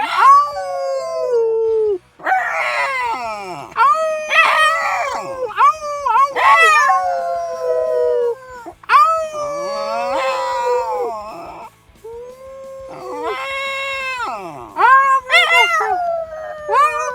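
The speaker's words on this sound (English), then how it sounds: "we'll get on the howling for Andrew and all our lovely doggy fans" Buster the dog howls repeatedly, long rising and falling wails broken by short yips, loud and close in a home during lockdown, with brief gaps between howls.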